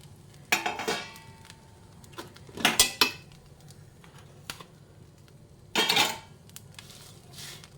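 Dried shrimp shells stirred in a pan over low heat, giving three separate bursts of scraping and clinking with quiet gaps between them, close by and with no voices.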